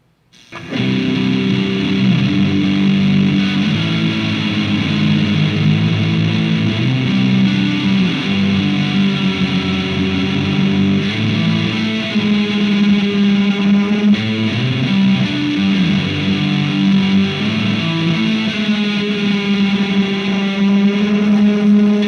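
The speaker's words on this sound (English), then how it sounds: "So when I bend the whammy bar with the distortion turned on, the modulation on the reverb tail really comes up front and shows up in the mix." An electric guitar plays through a PW2 pedal with distortion and reverb for a shoegaze or noise rock sound, with sustained, loud, buzzing chords, swelling modulated tails and pitch bends from the whammy bar, continuous and without talking.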